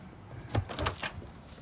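Door on a 2018 Lance 975 truck camper opening, a few soft clicks and rattles of latch and panel close by, brief and fairly quiet.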